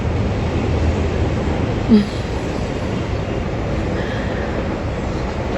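A train passes outside a home at sunset, giving a steady broadband rumble with rail noise throughout and a brief louder clank near the middle, fairly close and continuous.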